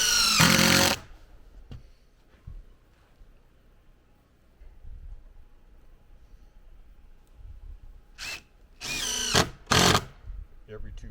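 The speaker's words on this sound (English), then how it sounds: "I put the screws in" A power drill whirs in short loud bursts driving screws into floor boards of an under-foundation storage build, one burst at the start and a cluster near the end, with quieter handling noise between.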